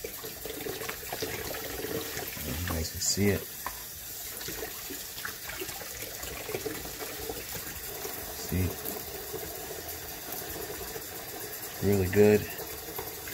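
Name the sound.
tap water running into a sink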